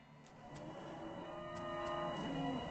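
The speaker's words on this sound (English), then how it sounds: "This portal, hell, you hear ominous mooing." A cow moos in long, drawn-out calls in the video game West of Loathing, fairly close and moderately loud, with a faint background hum.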